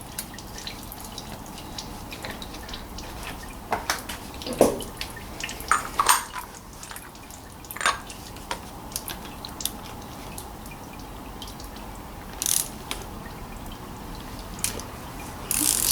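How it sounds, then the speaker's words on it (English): Engine oil drips from the oil filter housing of a 2012 Nissan Lafesta 2.0, landing as sparse, irregular, faint ticks over a quiet background. "oil will drip from there as well"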